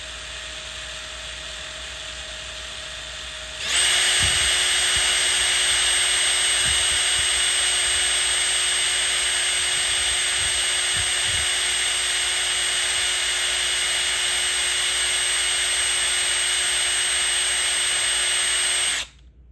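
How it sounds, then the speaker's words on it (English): A power drill whines loudly at a constant high pitch for about fifteen seconds while drilling through cardboard, then cuts off abruptly. "It's just cardboard you're drilling through."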